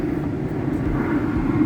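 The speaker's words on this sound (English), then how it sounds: "bloody aeroplane." A steady low drone, likely an aeroplane passing overhead, rumbles throughout at a fairly even level beside a lake where someone is carp fishing.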